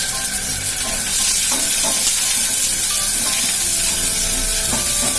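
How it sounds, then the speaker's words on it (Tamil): Fifty grams of onion, two green chillies and a sprig of curry leaves saute in hot oil in a pan, a loud, close, unbroken sizzle with faint stirring scrapes and no speech. "வெங்காயம் நல்லா வதங்கட்டும்"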